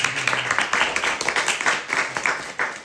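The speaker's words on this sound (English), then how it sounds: "Give him a applause." Audience applause at a spiritual talk on dharma and the soul: close, brisk clapping with rhythmic bursts that carry on steadily for the whole moment, with no voices over it.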